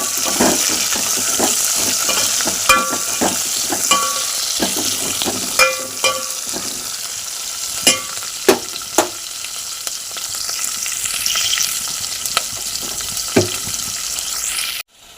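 Green chillies, okra and onion sizzle and fry in a pan, a steady close hiss broken by sharp clicks and scrapes of stirring, with a brief burst of running water near the end and no talking.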